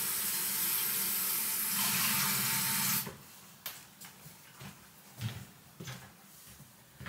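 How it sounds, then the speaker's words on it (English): Tap water running into a glass with a steady rushing splash for about three seconds, then the flow stops and a few quiet clinks and knocks follow, close by with no talking. "Glass of water being made."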